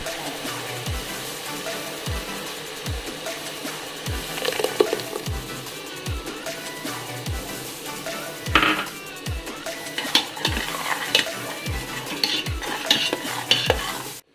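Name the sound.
sautéing onion and tomato paste in a pan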